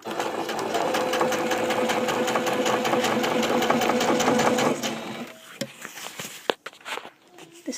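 A sewing machine stitches elastic into a cloth diaper with a fast, steady mechanical rattle up close, then stops after about five seconds and leaves handling clicks and fabric rustles.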